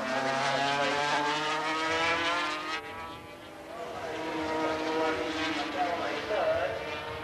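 Works racing motorcycles, among them a three-cylinder Honda, scream past on a circuit near the Dunlop Bridge and chicane, high revving engines rising and fading as they pass, heard under a commentator's voice.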